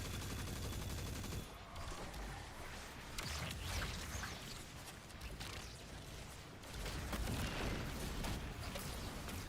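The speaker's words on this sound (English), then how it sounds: "Mint retrograde's a rocket pulse rifle." Mint Retrograde rocket pulse rifle firing in Destiny, dense bursts of rapid explosive shots that come in rolling volleys with short gaps, loud and close.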